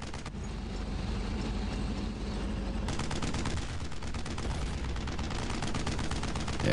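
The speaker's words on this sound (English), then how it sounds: "him shooting means he didn't kill the MG yet" Sustained machine gun fire from a World War II squad shooter, Brothers in Arms: Road to Hill 30, rattling in dense rapid bursts over heavy battle noise, with the firing growing sharper and louder partway through.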